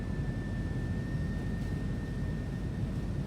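An SC Designs F-16 Falcon coming in to land in Microsoft Flight Simulator, with a steady, dense roar of jet engine and rushing air that holds at an even level throughout, with no voices.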